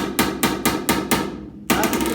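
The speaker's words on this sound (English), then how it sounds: "This is hammer off dolly." Hammer blows landing off the dolly on sheet metal, six quick evenly spaced ringing strikes close by, a brief pause, then one more hit.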